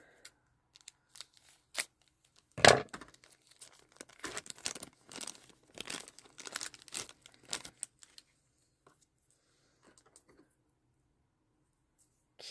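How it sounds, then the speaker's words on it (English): Close, quiet snipping and crinkling as scissors cut through Rainbow Brite doll plastic packaging, a burst of irregular cuts and rustles, then a few scattered clicks. "That's going to require scissors."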